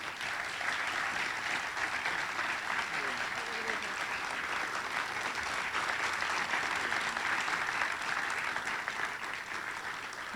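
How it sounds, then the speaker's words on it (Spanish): Steady audience applause fills a forum hall during an award presentation, dense even clapping sustained for about ten seconds with no voices over it. "Un aplauso para él, por favor."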